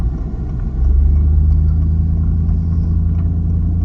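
A vehicle engine rumbles steadily up close, swelling slightly in low growl as it rolls in, loud and continuous with no talk.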